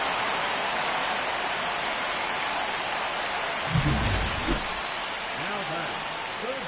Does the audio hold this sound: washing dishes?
no